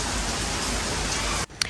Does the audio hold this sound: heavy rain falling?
yes